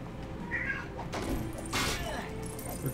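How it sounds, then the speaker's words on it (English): A cat meows loudly and insistently in a couple of drawn-out, agitated cries, close by and over a busy background with other sounds. "The cat's going ballistic."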